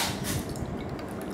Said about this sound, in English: I'm gonna pour my food coloring basically